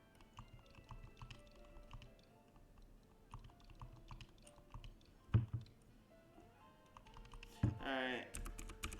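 Typing on a computer keyboard: soft, quick key clicks in irregular bursts, close but quiet, with a couple of louder knocks and some background shuffling.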